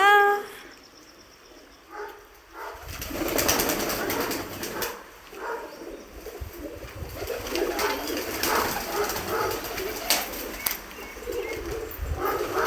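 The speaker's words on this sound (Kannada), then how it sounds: "ಪಾರಿವಾಳ" Pigeons coo close by over a rustling background, with a few wing flutters and no one talking.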